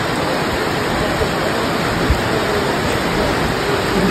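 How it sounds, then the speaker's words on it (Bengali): Heavy evening rain in Pelling, a loud, dense, unbroken roar of downpour that fills the space without any voices. "ভীষণ জোরে বৃষ্টি হচ্ছে।"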